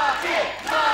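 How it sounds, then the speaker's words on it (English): A wrestling crowd at an SWE Uprising show cheers and shouts loudly and steadily for a full second, with a brief dip in volume midway before swelling again. "The crowd are absolutely loving EG Mackie right now"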